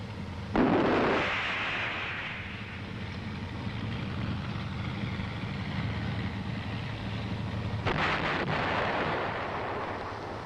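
The main gun of an M551 armored reconnaissance airborne assault vehicle fires with a sharp, loud blast that rolls off into a long rumbling echo, followed by a second, softer report several seconds later over steady outdoor noise.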